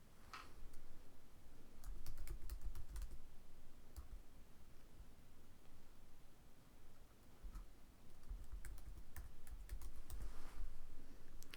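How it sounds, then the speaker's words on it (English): Someone types an email address on a computer keyboard, with bursts of quick key clicks separated by short pauses, close and fairly quiet, no talking. "you are going to type in the email that you want."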